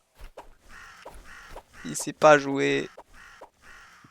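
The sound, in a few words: crow cawing from a crow-skinned bow in a video game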